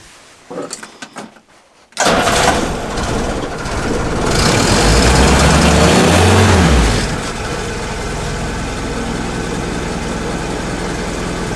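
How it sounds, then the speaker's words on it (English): A WW2 Willys Jeep engine cranks and catches after a quiet start, then revs up and down loudly close by before settling into a steady, rumbling idle. "we're going to see if we can start the Jeep up again"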